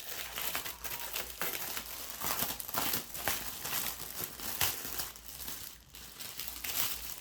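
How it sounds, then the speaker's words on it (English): A resealable plastic parts bag from a Border Models early production Tiger I kit being crinkled and handled, with dense, continuous rustling and crackling close up, and no speech. "Sorry about the crimping of the bag, but I don't want to lose any parts."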